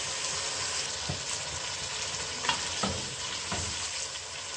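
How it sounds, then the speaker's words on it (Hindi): Masala spices for haleem fry in a pan with a steady, close sizzle, and a few soft scrapes of stirring sound beneath it. "आप इस जगह पे अच्छी तरह मसाले को फ्राई कर लें।"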